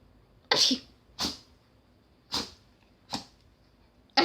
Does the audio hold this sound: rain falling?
no